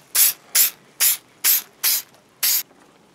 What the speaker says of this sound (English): So we're going to spray 77 the faux leather